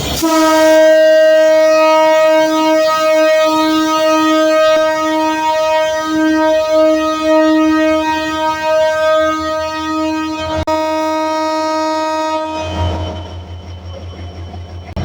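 The Dhaka-bound Jahanabad Express intercity, hauled by EMD locomotive 6619, departs Khulna railway station with a loud, near, sustained horn blast of about twelve seconds, followed by a deep engine rumble.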